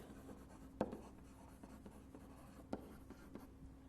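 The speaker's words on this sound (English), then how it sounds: "just let me write it in words" Pen or marker writing out a maths definition during a calculus lesson, a quiet scratchy scribbling texture with a couple of sharper tap-like strokes, close and faint, with no speech.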